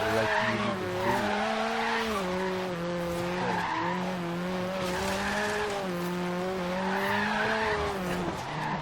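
Slammed, stanced Volvo 123 GTS fitted with a turbo Honda engine in Forza Horizon 3, engine holding a steady wavering drone while tires screech in a long continuous skid, loud and close.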